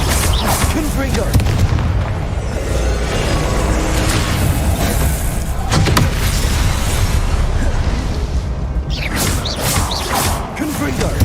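Confringo fire spells exploding over and over in Hogwarts Legacy, dense booming blasts and crashing impacts that continue for the whole stretch, with a voice speaking over the din.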